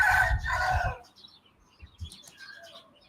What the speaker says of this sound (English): Just watching some chickens getting chased by other chickens.